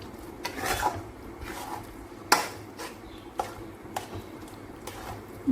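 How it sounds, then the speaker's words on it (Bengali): Milk and mung dal being stirred together in a pan for halwa, heard as soft, fairly quiet scrapes and a light bubbling sizzle, with a sharp utensil clink near the middle. "এবার দুধ আর ডাল একসঙ্গে ভালো করে নেড়ে চেড়ে ভাজতে হবে"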